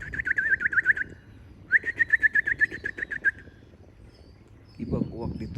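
Crows calling at a heliport, two runs of rapid, loud repeated caws close by, separated by a short pause, followed by a burst of rustling or handling noise near the end.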